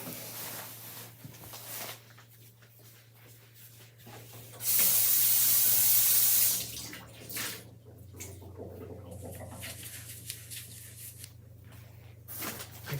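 Tap water runs to wet a chalkboard eraser, a loud steady gush lasting about two seconds mid-clip, then cutting off, over a low background hum with no voices.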